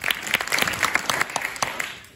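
An audience applauds briefly in a scattered burst of individual claps, fairly close and uneven, fading out after about two seconds.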